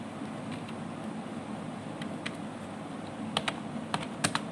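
Keys clatter on a computer keyboard as a sudo command is entered on an Ubuntu machine, a quiet scatter of close clicks over faint room hiss, with a few sharper keystrokes near the end.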